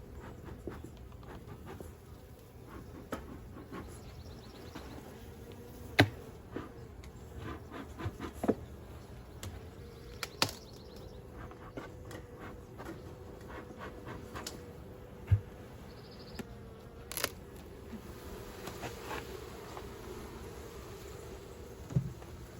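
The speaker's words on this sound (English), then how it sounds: "but there are bees in there" Bees in a hive after rain, a soft continuous insect hum close by with scattered small knocks and clicks from handling the hive.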